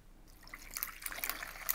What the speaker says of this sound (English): we're going to take our bowl of ice and we're going to pour some water in it so that our fish can swim.